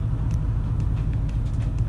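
A vehicle driving along a road in the Everglades gives a steady low rumble from inside the cabin, constant and fairly loud with no talk.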